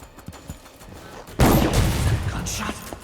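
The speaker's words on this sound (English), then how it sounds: "Gunshot." Gunfire in Dishonored 2 erupts as a sudden loud burst partway through, then rumbles on with a dense volley, preceded by faint clicks and quieter game noise.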